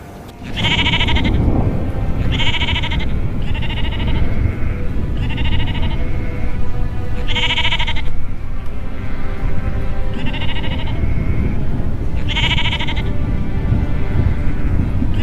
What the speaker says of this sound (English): These are my sheep.